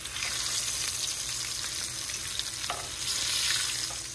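Crappie fillets frying in a hot pan, a loud continuous sizzle and crackle with small stirring and scraping bursts, alone without talk.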